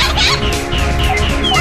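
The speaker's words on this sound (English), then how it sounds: "Oops, more chickens." Chickens cluck and squawk continuously in the arcade shooter Chicken Invaders, a dense layer of close, loud fowl calls over game effects with rising zaps and tones.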